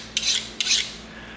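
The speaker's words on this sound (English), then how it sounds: "Sharpen our box cutter." Two quick rasping strokes of a box cutter blade drawn across a Kershaw sharpener, close and crisp, each stroke short and scratchy, with quiet between them.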